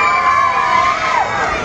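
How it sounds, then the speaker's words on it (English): A stand-up comedy audience roars and cheers together for the comedian, a loud, sustained crowd shout with a slight wavering tone that holds steady throughout. "Give me a cheer if you think I look cool."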